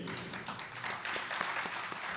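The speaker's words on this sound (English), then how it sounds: "Ladies and gentlemen, a round of applause for our panelists this afternoon." An audience at an afternoon panel session applauds the panelists with steady, dense clapping from many hands. The sound is moderately distant and fills the room evenly throughout.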